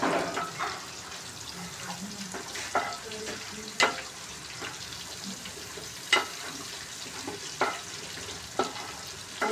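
Spinach thoran is stir-fried in a pan: a soft, continuous sizzle broken by sharp spatula scrapes and taps at irregular intervals, close and fairly quiet.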